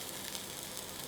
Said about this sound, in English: So now we're going to take our beef here in batches and start searing.